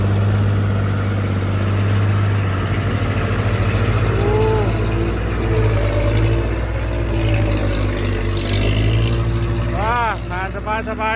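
A tractor engine idles in Thailand with a steady low mechanical rumble and strong harmonic drone, while voices talk over it throughout.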